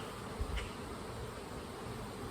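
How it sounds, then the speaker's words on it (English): A crowd of honey bees buzzes steadily around a queen cell inside an opened hive, a dense continuous hum close by with no voices over it. "A lot of bees around it"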